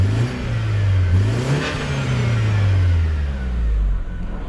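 A car engine revs up and down several times, loud and close, with a vibration at high revs; the rising and falling whine carries a buzzing roughness near the top.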